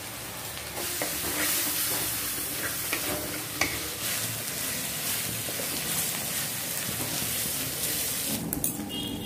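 Spice paste and prawns fry in a pan, giving a steady loud sizzle with scraping and knocking from a stirring spoon throughout, close up and with no talking.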